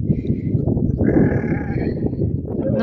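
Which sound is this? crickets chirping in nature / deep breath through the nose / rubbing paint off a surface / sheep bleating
sheep bleating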